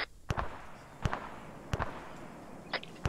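Explosives detonating in the military game ArmA 3: a series of sharp, fairly distant bangs and cracks at irregular intervals, some doubled, over a quiet background.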